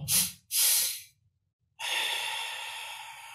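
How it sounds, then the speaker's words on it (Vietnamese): Two quick, forceful nasal inhales in a row during a breathing exercise led by an instructor, close and loud, then a pause and a long steady exhale or hiss that trails on. "hít vào liên tiếp hai hơi như vậy và các bạn có thể làm thử cùng thầy khoảng 5 hơi thở như thế"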